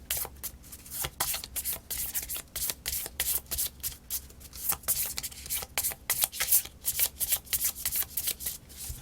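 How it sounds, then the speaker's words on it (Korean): Tarot cards are shuffled repeatedly by hand at close range, giving a long run of crisp, rhythmic papery riffles and slaps with short pauses between bursts. "추가 카드 한번 뽑아드릴게요."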